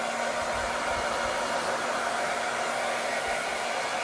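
A hair dryer blows steadily and loudly from start to finish, a continuous close whoosh with a low hum, used to dry a surface.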